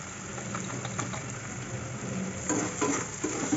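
Vegetables with Maggi masala being stirred in a pan, a steady low sizzle with soft scraping strokes that grow a little louder toward the end, no voices.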